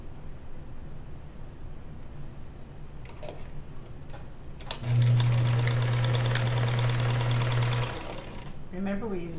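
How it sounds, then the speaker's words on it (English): A sewing machine runs a steady, loud burst of stitching for about three seconds, sewing the side seam of a girl's bereavement gown, with quieter handling noise before and after. "now I'm going to sew this other side seam together"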